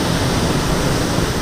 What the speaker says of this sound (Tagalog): yung current ng tubig na umaagos from galing sa taas guys ay masyadong malakas